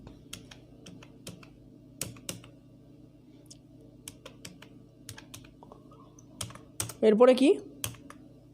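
Computer keyboard typing HTML code into Notepad, a steady run of light, quick clicks spread across the clip, with a brief spoken question near the end.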